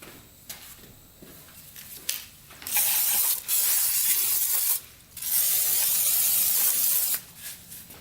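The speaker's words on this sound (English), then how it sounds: "We're gonna spray that out." Spray cleaner hisses into the airbox of a Honda CR250 dirt bike in two long, loud bursts, each about two seconds, preceded by a few faint clicks and shuffles.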